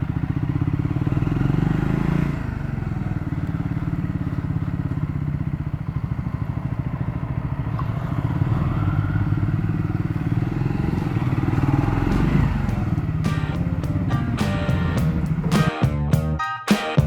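Triumph Scrambler 400X motorcycle engine rumbling steadily at low speed while riding into a service center, close and loud, ending with clattering thuds and mechanical clicks as it stops.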